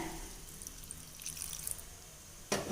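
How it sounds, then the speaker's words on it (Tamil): Water is poured into a cooled sautéed mixture before grinding, a soft, steady trickle that ends in a sharp click. "கொஞ்சம் தண்ணி சேர்த்துக்கிறேன்"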